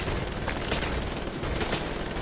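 Gunfire in the video game Wolfenstein: The Old Blood, a dense rattle of shots with a couple of stronger bursts, continuous and close throughout.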